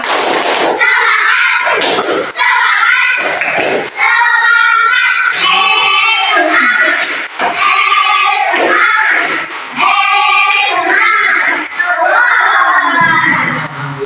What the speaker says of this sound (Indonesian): Coba tepuk semangat lagi, tepuk semangat.